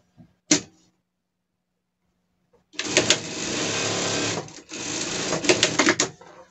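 Sewing machine stitching tricoline cotton fabric for a doll dress, a sharp click, then a quiet gap before two continuous close-up runs of stitching separated by a short pause, with a few clicks at the end.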